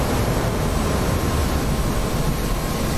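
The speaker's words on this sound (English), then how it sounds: "the spool times in this engine are horrible." A jet aircraft engine spools up in a combat flight simulator, a dense, steady roaring rush that fills the space evenly throughout, loud and with no voices over it.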